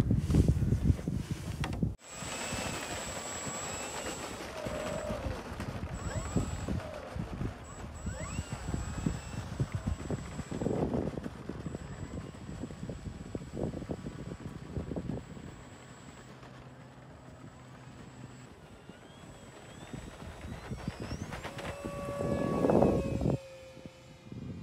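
A 3D printed black PLA RC Tucano model airplane on its maiden flight, its electric motor whining and buzzing as it passes near and far over a noisy outdoor field for more than twenty seconds.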